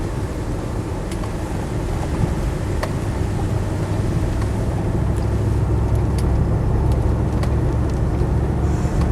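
A Land Rover 90 CSW with a V8 engine drives along, its steady low engine drone and road rumble filling the cabin continuously, with faint wind noise and occasional light rattles.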